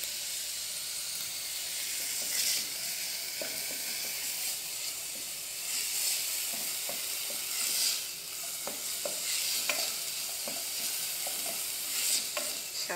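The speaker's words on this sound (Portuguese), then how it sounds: "Deixa só fritar mais um pouco aqui" Sardines sizzling and frying in a pan, a steady bright hiss with occasional stirring scrapes and small pops, close and continuous with no talking.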